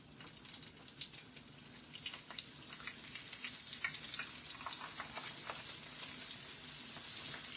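Pork chops frying in a pan on the stove, a steady crackling sizzle with scattered pops that builds slightly and holds, close and fairly quiet, with no talking.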